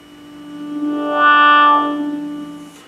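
A single sustained note on an EWI wind synthesizer, a plain pulse wave through a breath-controlled low-pass filter, starts dark, brightens and buzzes as breath pressure rises mid-note, then mellows and fades out alone.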